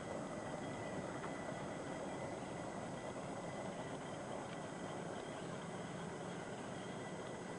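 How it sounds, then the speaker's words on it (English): Steady broadband rumble and rolling mechanical noise of an aerial tram passing downhill, continuous and moderately distant, with no speech. "Tram going down. I think that's a tram."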